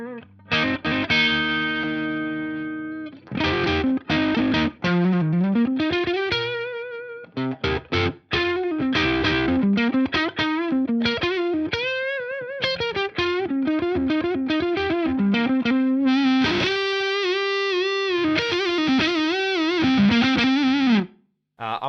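Heavily distorted electric guitar through a Diezel Einstein amp playing a melodic lead line with sustained bent notes and quick runs, loud and up front with no talking.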